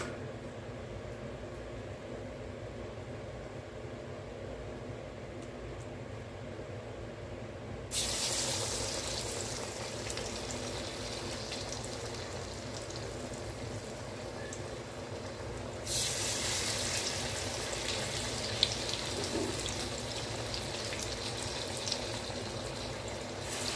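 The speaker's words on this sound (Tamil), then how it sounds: "அங்கே எண்ணெய் காய வச்சுட்டேன், இப்போ போட ஆரம்பிச்சு." Banana flower vadai frying in hot oil, a steady bubbling hiss that grows louder as more patties go into the pan, continuous and fairly close.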